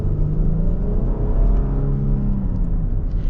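A 2025 Nissan Armada Platinum V6 accelerates from inside the cabin, a smooth, moderately loud engine rumble with rising harmonic whine building steadily, no talking.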